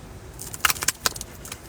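A deck of playing cards is shuffled by hand, giving a quick flurry of crisp riffling clicks and snaps close to the listener, with no talking.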